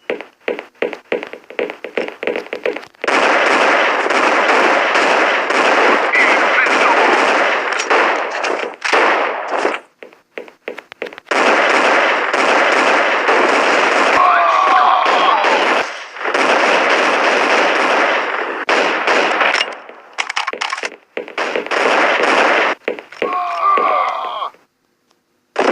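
Rapid pistol gunfire in the mobile shooter game Crisis Action, bursts of sharp shots crowding most of the clip with brief gaps for reloading and a few game voice callouts near the end.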